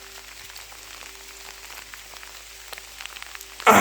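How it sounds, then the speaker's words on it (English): Heavy rain pouring down in the bush, a steady dense patter on leaves and surfaces all around, continuous and close, with a brief louder rustle at the very end. "This rain's coming down pretty hard now."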